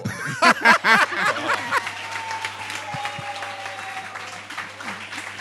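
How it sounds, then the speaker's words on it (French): Audience applause for magicians on a French television magic show, opening with a few loud bursts over a voice, then settling into lighter clapping under ongoing talk. "On les applaudit bien entendu."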